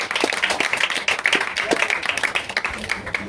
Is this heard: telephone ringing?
no